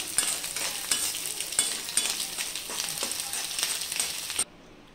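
Eggs fry with amaranth leaves, salt and turmeric in a pan, a continuous close sizzle broken by repeated light scrapes and taps of a stirring spoon before stopping abruptly near the end.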